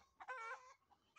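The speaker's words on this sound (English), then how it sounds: "don't mind the chickens and the dogs and the ducks that you guys are going to hear" A chicken clucks nearby on a rural property, one short drawn-out call followed by softer brief clucks, faint and alone against quiet background.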